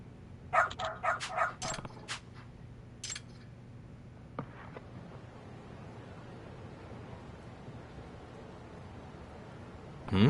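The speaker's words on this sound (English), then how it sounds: "Good dog. Very good dog." Dog barking in the video game Lost Judgment: a quick cluster of sharp barks, a lone bark a moment later, then a faint one before a long stretch of low background ambience.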